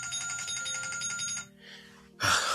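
A phone alarm rings in a steady repeating electronic tone pattern close by, cutting off abruptly before a loud burst of noise at the end, with no talking.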